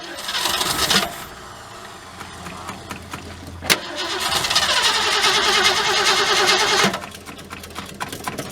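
A 1967 Ford Galaxie 500, sitting unused for 25 years, cranks over for its first start: bursts of starter churning with a sharp click, then a longer rhythmic cranking stretch, loud and close, with voices in the background.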